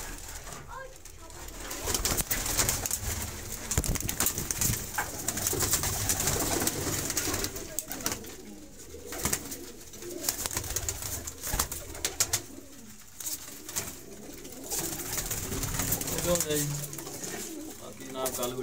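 Pigeons coo repeatedly in a loft in Faisalabad, soft throaty calls recurring under steady background noise and occasional talk.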